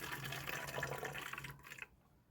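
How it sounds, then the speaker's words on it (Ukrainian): Warm water poured into a 1-litre garden sprayer, a steady close splashing fill that thins and stops near the end. "Тепленької водички, гаряченькою наливаю."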